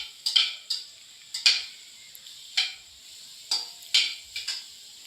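A utensil stirs chicken and carrot pieces in a pan over the heat, making sharp scraping taps at an uneven, unhurried rhythm, about eight strokes with quiet gaps between.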